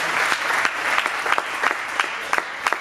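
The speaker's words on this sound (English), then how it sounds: "can we give a round of applause to Celebration Church and what you guys are doing?" Applause for Celebration Church at a young adults church night, steady and moderately loud with scattered sharper claps rising above the wash, no voice over it.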